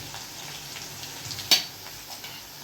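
Onion frying in a pan for poha, a low steady sizzle with one sharp clink or crackle partway through, fairly quiet and without talk.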